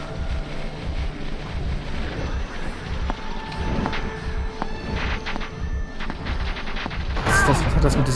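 A rapid burst of crackling pops from firecrackers in the video game American McGee's Alice, scattered sharp bangs over a steady background rumble, growing denser and louder near the end.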